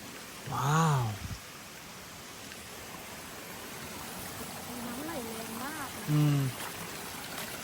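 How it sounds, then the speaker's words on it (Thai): Steady rain falls in a continuous broadband hiss that runs throughout, with people talking briefly over it. "ฝนตกทุกวันเลย"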